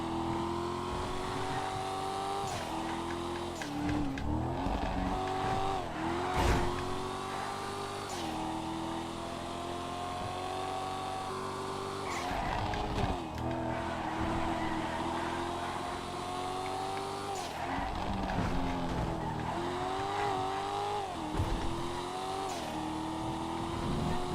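Old school sports classic cars racing on a GTA 5 FiveM track, close engine droning and revving with gear shifts and repeated pitch swings across the lap, continuous and steady in level, no talking.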